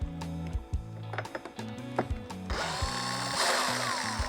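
A power driver backs screws out of the inner fairing of a 2023.5-or-later Harley-Davidson Street Glide, several short whirring bursts in quick succession, close and fairly quiet, ending in a brief louder rattle.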